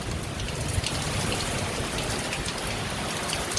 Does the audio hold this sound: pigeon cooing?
no